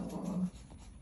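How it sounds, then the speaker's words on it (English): A small Morkie dog gives a short whimpering whine, a faint high cry lasting half a second before fading into quiet breathy sounds nearby. "sorry about the barking"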